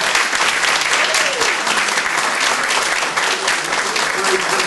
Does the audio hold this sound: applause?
yes